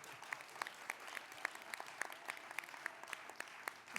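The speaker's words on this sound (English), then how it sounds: "if we could give our panelists one more round of applause." A panel discussion audience gives the panelists a round of applause, a steady patter of many hands with distinct sharp claps standing out at a modest distance.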